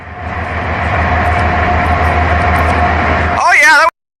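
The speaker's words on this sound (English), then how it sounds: "here's the train. You hear it? You hear the train?" A train rolls slowly along nearby rail tracks in a loud, continuous rumble that builds and holds, and a voice breaks in near the end.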